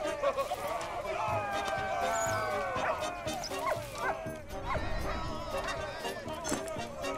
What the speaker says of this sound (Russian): Хорошая собака.